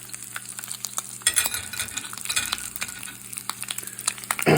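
Wagyu beef bacon frying in a Teflon pan, a continuous close sizzle and crackle with scattered pops, plus bursts of scraping and stirring from a utensil, louder near the end.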